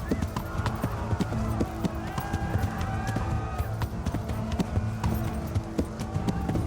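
Rapid rhythmic hoofbeats of a galloping horse in Kingdom Come: Deliverance, steady and close, with game music and effects underneath.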